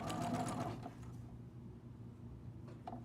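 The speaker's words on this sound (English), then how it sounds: "I just keep moving this fabric back to align with the edge and sew it at 1/4 inch" A sewing machine stitches fabric for a quilt block along a quarter-inch seam, its steady close whir strongest at the start before easing into a quieter, continuous run with no talking.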